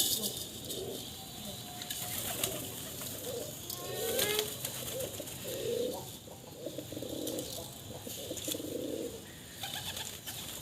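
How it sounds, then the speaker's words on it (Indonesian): Pigeons cooing while they eat, soft repeated coos in short bursts close by, with faint rustling, pecking and a brief flutter of wings in the background. "burung merpati cantik sedang makan"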